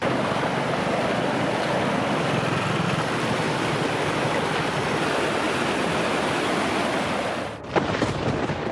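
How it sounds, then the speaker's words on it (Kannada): The flooded Gauri river rushes and roars steadily without pause, fast and heavy, a dense constant wash of sound, briefly broken near the end by a bump, during heavy rain in Dakshina Kannada, Karnataka. "ಗೌರಿ ಹೊಳೆ ಉಕ್ಕಿ ಹರಿಯುತ್ತಿದೆ"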